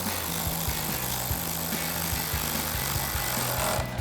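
Ratchet and socket tightening a 10mm bolt on the grille of a 2014-2015 Chevrolet Silverado 1500, a close, steady run of rapid clicking strokes with brief pauses, alone without talk.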